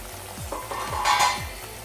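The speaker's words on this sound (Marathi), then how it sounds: "मस्त उकळी आली आहे" Masala gravy for bhindi bubbles and sizzles in a pan, with soft irregular pops and a rising hiss over a low steady bubbling, close up with no voices.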